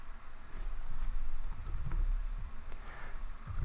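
Code being typed on a computer keyboard, with a steady run of quick key clicks at close range, alone and without speech.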